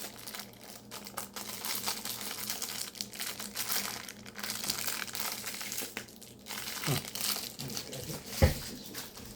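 A crinkly plastic drink package is wrestled open by hand, with close, continuous crackling and crumpling and a few sharper snaps toward the end.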